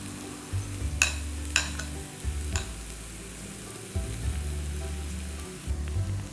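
Mashed potato stirred into a sizzling masala of spices, Kashmiri chilli powder and salt in a pan, a soft low frying hiss with a few distinct spatula taps and scrapes, near and without speech.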